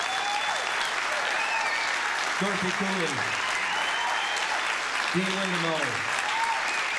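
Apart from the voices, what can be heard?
audience applause for songwriters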